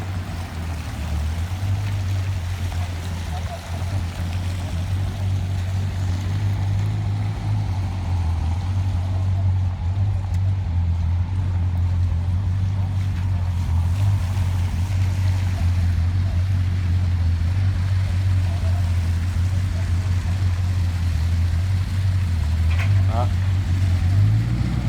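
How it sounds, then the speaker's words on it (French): Bugatti Chiron with its W16 engine idling during loading in Paris, a steady deep low rumble that holds constant throughout, with a person talking over it. "c'est la première fois que je vois une Bugatti Chiron qui a le moteur démarré, donc je vais pouvoir entendre ce que c'est"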